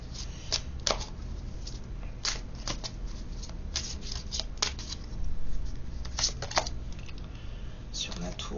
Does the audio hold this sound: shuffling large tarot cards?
yes